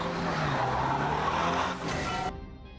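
A car in a film skids and crashes into a barrier pole, heard as a loud, sustained tire squeal with engine noise that cuts off abruptly near the end.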